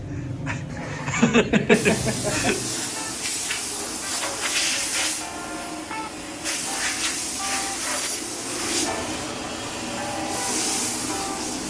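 A steady, loud hiss of air blowing through a hole in a Formula-style car chassis tube runs for several seconds, with a few sharp clattering knocks near the start and surging bursts throughout.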